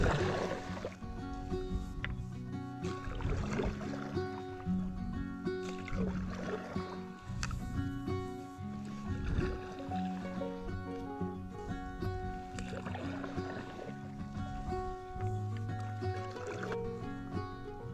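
Kayak paddles dip and splash in the water of Florida's Chassahowitzka River at a steady, unhurried pace, with gentle gurgling and trickling close by.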